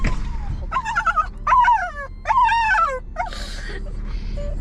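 A puppy on an Alaskan homestead whimpers and whines in a series of high, wavering cries, close and fairly loud, with short pauses between them.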